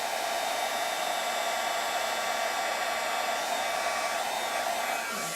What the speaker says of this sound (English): Once your heat tool is heated up